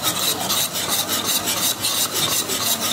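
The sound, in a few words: mixing milk tea cake batter with yogurt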